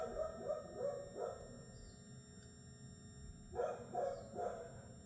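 A dog barks in short bursts, a few quick woofs, a pause, then another cluster, set against a steady low electrical hum.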